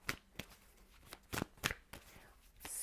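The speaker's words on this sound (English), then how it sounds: "let's shuffle the cards" Tarot cards being shuffled by hand, a series of short papery riffles and snaps at irregular intervals, fairly faint and close, with no speech over them.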